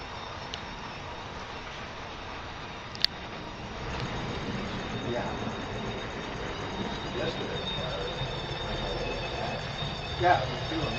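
Seybold Locomotive Works Star engine 442, number 605, a steam locomotive running at a shop dedication excursion, heard as a faint, steady rumble of rolling train noise with a sharp clank near the start.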